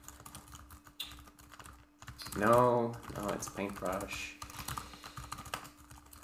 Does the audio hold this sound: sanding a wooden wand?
no